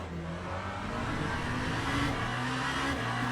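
A Genesis hypercar engine on a warm-up lap in the racing sim Le Mans Ultimate drones steadily, rising gradually in pitch and loudness as it accelerates, with tyre and road noise underneath.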